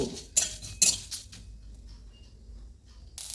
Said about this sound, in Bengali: সব কিছু নেড়ে চেড়ে ভেজে নেব